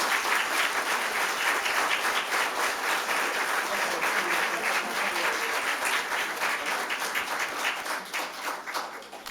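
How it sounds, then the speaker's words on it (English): A ceremony audience at a fire department awards event gives a long round of applause, dense even clapping that holds steady and thins slightly toward the end. "So please, big round of applause for Captain Farrer and Lieutenant Nelson."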